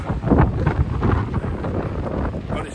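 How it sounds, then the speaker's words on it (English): Strong wind buffeting a microphone on coastal cliffs at Old Harry Rocks in Dorset, a loud, gusty low roar that swells and dips for a few seconds. "But it's a bit windy."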